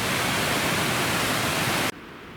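A creek rushes loud and steady as broadband water noise for about two seconds, then cuts off abruptly to near quiet.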